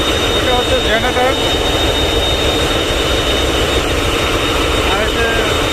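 The twin engines of the river launch Miraj 6 roar continuously from inside its engine room, loud and close, a thick steady drone with a faint high whine.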